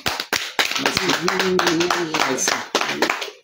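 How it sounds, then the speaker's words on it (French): An audience claps hands in applause, irregular bursts of claps punctuating a voice speaking and singing over them at a public event. "Tapez les mains pour applaudir."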